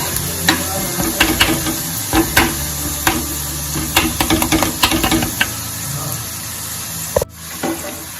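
Garlic chutney, pounded in a mortar, being stirred into a Kathiyawadi dahi tikhari dish in a hot pan, with repeated scraping spoon strokes over a steady sizzle and a brief clatter near the end.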